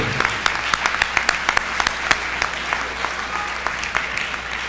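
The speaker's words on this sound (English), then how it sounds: "giving a big round of applause to your parents and great-parents" A graduation audience breaks into a steady, full round of clapping for parents and grandparents, the sound dense and continuous with individual sharp claps popping out.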